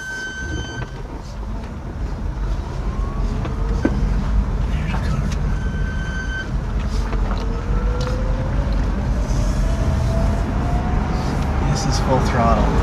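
An electric truck pulls away in second gear, its motor whine rising slowly in pitch as it gathers speed under heavy wind rumble, with someone talking over it.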